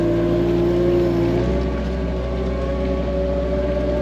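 A small hedge cutter engine runs close by with a loud, steady buzzing drone and a rattle, its pitch shifting slightly partway through.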